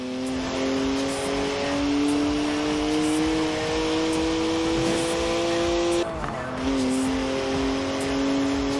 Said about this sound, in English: 3 litre straight six, 335 horsepower, two turbos, as much sideways action as you like.